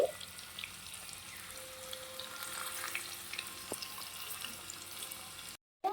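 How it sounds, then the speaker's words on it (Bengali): Chicken fried in hot oil in a tiny miniature toy kitchen, a soft continuous sizzle with faint stirring and a brief silence near the end, no talking. "তেলটা গরম হয়ে গেছে, এখন দিয়ে দেবো চিকেন"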